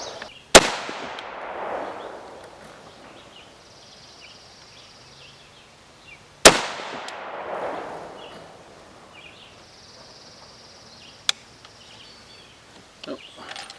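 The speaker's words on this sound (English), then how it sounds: "3 rounds. We're going to try to shoot a group with this." Two loud, sharp rifle shots from a Norinco M21, several seconds apart, each ringing out with a long outdoor echo, followed by a faint click and quiet surroundings.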